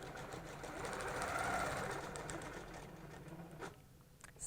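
A sewing machine microquilting along a ruler runs in a steady close whir that swells and fades over a few seconds, followed by a couple of small clicks, with no speech.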